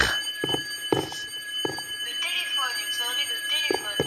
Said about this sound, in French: il y a une sonnerie de téléphone